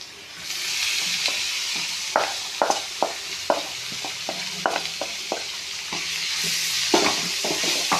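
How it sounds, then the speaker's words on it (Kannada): Dill leaves and toor dal being tempered in a hot pan give off a continuous sizzle and frying hiss, punctuated by many sharp clicks and scrapes of a spatula stirring, with no talking. "ಈ ಥರ ಮಾಡಿಕೊಂಡು ಒಗ್ಗರಣೆ ಕೊಡಬೇಕು."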